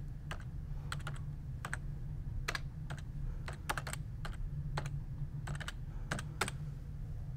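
Close, quiet typing on a computer keyboard, with short bursts of crisp key clicks and brief pauses between them over a low background hum and no speech.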